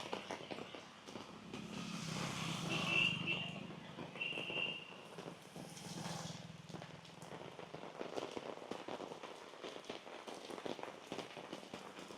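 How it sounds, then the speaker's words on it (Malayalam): Steady heavy rain pours down over a playing ground throughout, with a dense hiss of drops on surfaces and a few faint passing sounds in the background. "കംപ്ലീറ്റ് മഴ കൊണ്ട് പെയ്തിട്ട്"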